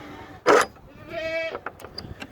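Goats bleat in a farm setting, with one loud, harsh bleat followed by a longer, nasal, strongly tonal bleat, then a few faint clicks and knocks.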